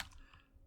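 Keys clatter on a computer keyboard for a short, quiet burst of typing, faint and close with no talk over it.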